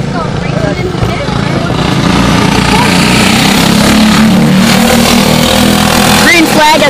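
A field of race cars roars away at the green flag, a dense, loud wall of accelerating engines under continuous commentary.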